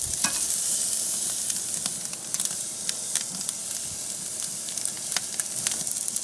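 Steak searing on a Big Green Egg grill, a steady close sizzle and hiss with sharp crackles and pops scattered throughout.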